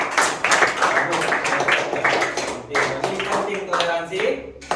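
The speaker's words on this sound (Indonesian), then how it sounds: "Oke, tepuk tangan untuk Zian." Students in a classroom clap for a classmate named Zian, a burst of scattered close hand claps mixed with chatter and voices.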